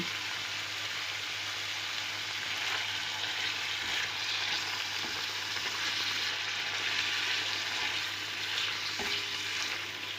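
Steady, hissing sizzle of liver frying in a covered pan, continuous and fairly soft, with an occasional faint scrape.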